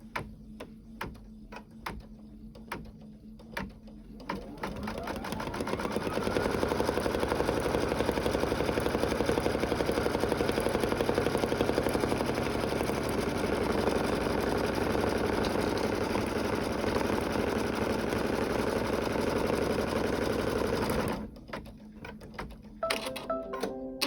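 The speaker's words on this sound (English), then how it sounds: "it's going to go ahead and sew it and secure it" An embroidery machine stitches a tea bag holder, running with a steady, busy mechanical hum and rapid needle chatter for most of the stretch, framed by quieter clicks and handling before and after.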